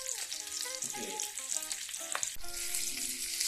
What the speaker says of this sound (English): To fry the fish, set the stove on medium heat